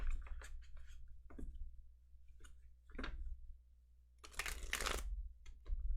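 Tarot cards being shuffled in several quick riffles and bursts, close and crisp, separated by brief pauses in an otherwise quiet room.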